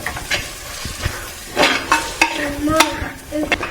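Masala for mutton head curry sizzles in a pan while being stirred, with scraping strokes and short bursts of frying hiss in an uneven rhythm, heard close with no talk.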